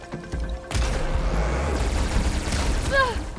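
Powerful arrows are fired in Horizon Forbidden West, with a booming, blast-like impact and crackling debris that linger for a few seconds, loud and close, with someone talking over the game sounds.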